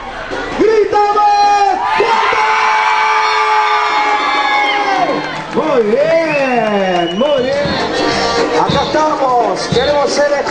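A crowd of students at an integration-week event shouts and cheers together, loud sustained whoops and rising collective yells with chanting voices throughout.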